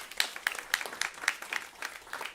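An audience applauding at a food systems conference, a modest spread of clapping with several distinct louder claps standing out in a loose rhythm, heard fairly faint and somewhat distant.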